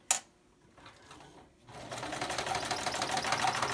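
A sewing machine stitches the pleat of a surgical mask: a brief start, a pause, then a fast continuous mechanical whirring chatter that builds and runs steadily, close by.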